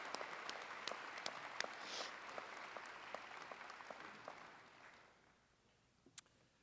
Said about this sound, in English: how about a round of applause for our new president